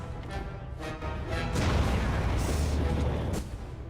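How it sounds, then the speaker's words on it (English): A freeze bomb thrown in Dragon Age: Origins bursts with a heavy crashing impact, a loud rumbling spell blast lasting a couple of seconds amid softer combat thuds. "Freeze bomb. Here we go."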